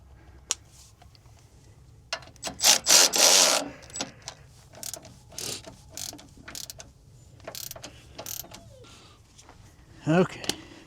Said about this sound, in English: Now we'll retighten that 10 mil.